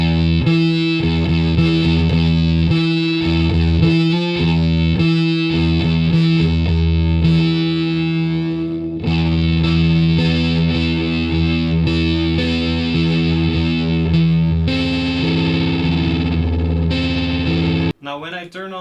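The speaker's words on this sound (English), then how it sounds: "go on to the warp distortion, or warp drive as it's called on the pedal" Electric guitar through the Arachnid pedal's warp distortion with the roar function off, playing a heavily distorted, sustained riff with chorus-like shimmer, loud and continuous, cutting off abruptly near the end.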